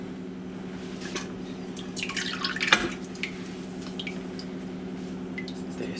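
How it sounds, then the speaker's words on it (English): Buttermilk draining and dripping off freshly churned homemade butter, with a steady run of liquid drips and a brief louder splash midway, close and fairly quiet. "Buttermilk. Now we'll just separate it."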